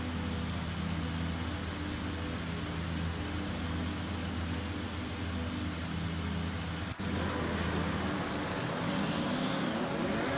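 An F1 2019 race car launching off the grid at the Mexico circuit in a video game, with a steady loud engine drone and a sharp click at the start, then the pitch shifts and rises as the car pulls away.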